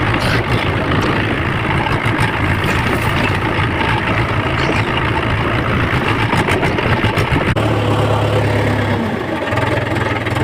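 A tractor engine runs steadily on a farm field being sprayed for a garlic crop, a loud close continuous rumble with a shift in tone partway through and no talk over it.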